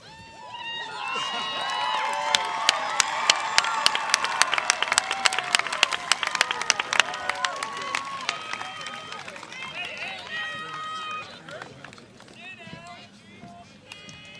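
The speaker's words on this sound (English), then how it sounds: "Give a little cheer." A crowd at the 2018 Wellesley High School commencement ceremony breaks into loud, sustained applause with dense rapid clapping and cheers, voices mixed in, then tapers off toward the end.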